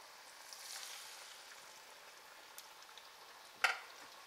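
Beef cutlets frying fully immersed in hot oil, a faint, steady soft sizzle with a brief sharper crackle near the end, no talking.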